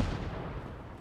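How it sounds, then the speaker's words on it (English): Explosions and gunfire in the video game Fallout 4, a dense continuous rumble of booming blasts that stays loud for the whole second with no voices over it. "And now there's explosions."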